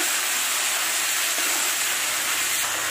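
Chopped onions and four tomatoes hiss and sizzle in a hot pan while they sauté, a steady, bright frying noise that carries on with no voices over it.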